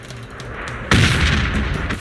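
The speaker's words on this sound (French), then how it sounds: "sur la magnifique traînée des météores dans les cieux et sur les magnifiques explosions qui illuminent les îles proches" Meteor shower explosions in the video game Tropico 6: one heavy, loud boom strikes suddenly and then rolls into a sustained, rumbling roar that carries on to the end, with a quieter ambient bed before it.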